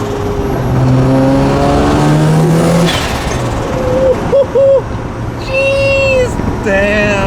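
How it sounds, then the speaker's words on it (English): Porsche race cars pass and rev nearby, a steady roaring engine drone with rising and falling tonal sweeps and brief horn-like tones toward the end, loud throughout. "here are the Porsche race cars I was talking about earlier"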